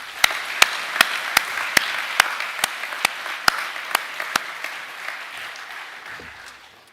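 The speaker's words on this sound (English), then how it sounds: "Let's give Ashton another round of applause." An audience applauds at a senior academic awards school assembly, steady clapping that swells and then slowly fades over several seconds, with sharp regular knocks sounding through it.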